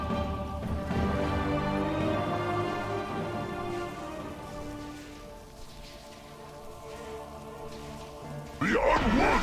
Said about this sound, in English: It's raining up here.